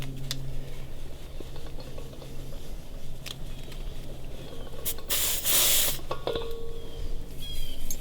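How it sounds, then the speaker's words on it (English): A short, loud hiss of propane escaping as a 1 lb bottle is unscrewed from a refill adapter, a broadband spray lasting about a second amid quieter handling noises. "There'll be a little burst of propane."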